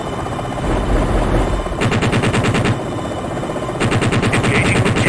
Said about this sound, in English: Engaging with cannon.